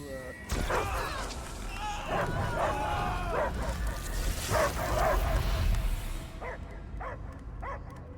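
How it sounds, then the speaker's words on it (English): A dog barks repeatedly in the video game Marvel's Guardians of the Galaxy, short sharp yips and woofs mixed with whimpers, over a busy background with other voices and noise. "I hear only barking"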